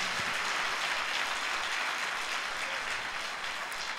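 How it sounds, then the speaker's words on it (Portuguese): A church congregation applauding during a worship service, a continuous wash of many hands clapping at once, fairly loud and even over four seconds with no voices clearly standing out. "Dê um aplauso bem forte ao Senhor"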